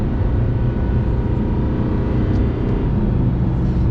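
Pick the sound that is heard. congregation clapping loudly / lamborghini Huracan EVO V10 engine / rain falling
lamborghini Huracan EVO V10 engine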